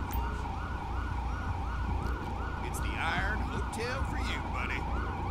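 An ambulance siren wails in GTA 5 with the LSPDFR police mod, a loud continuous rising-and-falling electronic tone cycling repeatedly over road traffic, with brief other chirps mixed in.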